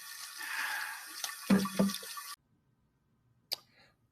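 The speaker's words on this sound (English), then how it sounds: "You need to wash with cold water, Billy." Tap water runs into a sink for about two seconds, splashing and gurgling close by, then cuts off to near silence before a brief drip or clunk.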